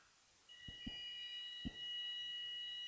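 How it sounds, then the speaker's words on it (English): A fire alarm sounds in a conference talk room, a steady high electronic tone with a second tone layered over it, fairly faint and distant, with a few soft thumps and room noise underneath. "Alarm!"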